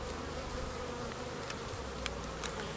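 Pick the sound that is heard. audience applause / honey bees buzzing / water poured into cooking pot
honey bees buzzing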